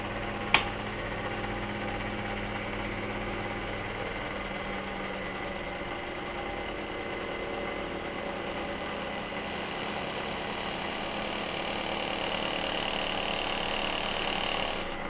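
A machine shaves a moldy brown wax cylinder, producing a steady, moderately loud mechanical drone that runs throughout after a sharp click near the start.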